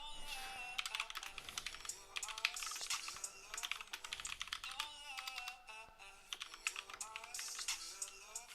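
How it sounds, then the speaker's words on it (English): Rapid, irregular clicking of keys on a computer keyboard fills the whole stretch, close and fairly clear, with bursts of quick strokes and brief pauses between them. "I wonder if I were to type it out on the computer and then do a copy and paste."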